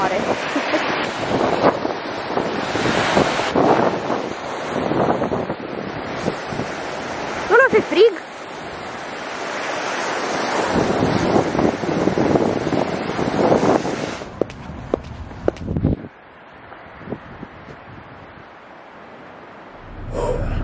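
Black Sea waves on a windy beach, surf rolling in and washing out under heavy wind buffeting the microphone, with occasional speech, then quieter near the end.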